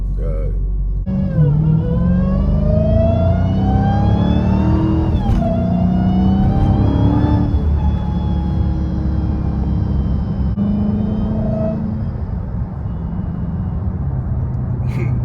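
A Hellcat Redeye car engine revs loudly up close, its deep rumble rising and falling through several long pulls with a high whine climbing over it, while voices talk over the engine.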